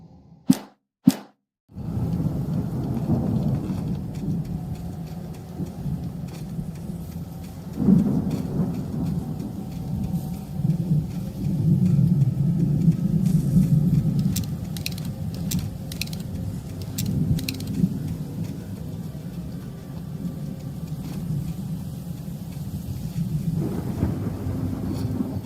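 A heavy thunderstorm with steady rain fills a scene in the video game Alan Wake Remastered, opening with a couple of sharp cracks before a continuous, dense downpour with low rumbling swells, loud and close, with no voices.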